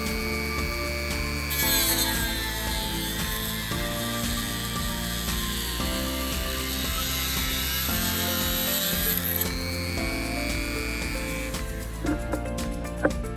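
A saw cuts through the plastic rear bumper of a Tekno 410SL RC car, giving a steady, close rasping whine for about ten seconds before the cut ends and a few light knocks follow.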